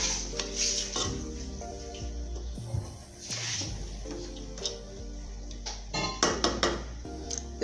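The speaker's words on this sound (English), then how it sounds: "I'm going to stir well and then cover this to cook on low heat" A spoon clatters and scrapes in a pot while stirring Nigerian fried rice seasoned with curry and thyme, with a string of close clinks and knocks that grow quicker and sharper toward the end, and no talk.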